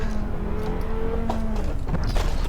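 A Lamborghini Veneno in the racing game Test Drive Unlimited 2 revs unevenly through a mistimed downshift, its engine note rising and dipping with tyre noise, loud and close.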